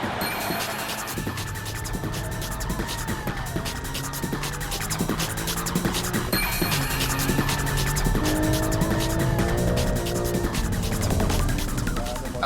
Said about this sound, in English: Can the M3 catch the Porsche? And keep your eye on the GTR.